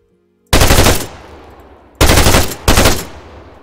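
An auto rifleman's machine gun in Arma 3 fires three loud, close bursts of rapid shots, each ringing out and decaying before the next, after a moment of near silence.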